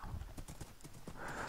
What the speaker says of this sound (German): Komm schon, Pferdchen, du schaffst das.